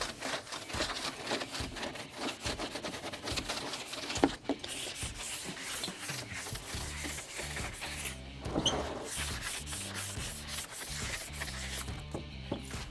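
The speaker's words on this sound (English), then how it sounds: "then we'll hit that with a light quick sand as well" Light, quick hand sanding of rough edges on a homemade floating bait pen, a steady continuous rasping scrub that runs throughout at moderate level with no talking.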